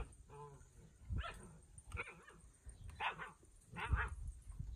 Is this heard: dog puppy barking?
yes